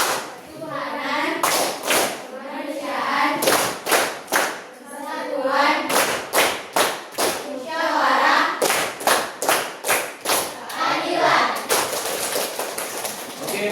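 A class group at a vocational school in Banda Aceh performs the Tepuk Pancasila routine: sharp, close hand claps in quick rhythmic bursts, interleaved with voices chanting together throughout.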